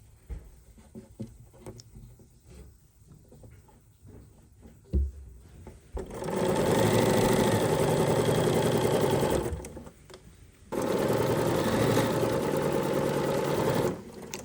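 A sewing machine stitches potholder blocks in two loud, steady runs of fast whirring, separated by a brief pause, after a quieter stretch of small handling noises.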